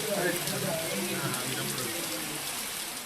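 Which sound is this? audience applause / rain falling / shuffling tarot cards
rain falling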